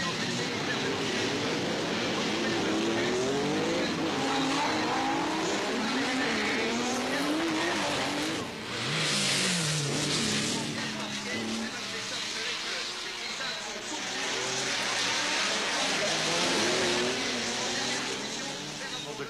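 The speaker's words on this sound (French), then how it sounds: "Nous aurons deux escortes, une Porsche, celle de Tavernier, et une Audi Quattro dans cette séance d'essai pour faire le tour." A Porsche and an Audi Quattro run laps on a race track during a practice session, engines droning and revving close by in rising and falling sweeps, with tires squealing, under a French commentator's voice.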